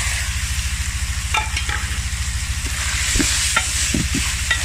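Chicken pieces and carrots fry steadily in oil in a pan over low heat, a continuous close sizzle broken by occasional stirring scrapes and clinks, with no voices.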